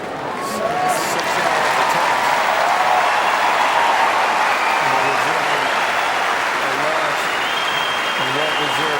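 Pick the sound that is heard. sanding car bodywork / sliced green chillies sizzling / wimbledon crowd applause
wimbledon crowd applause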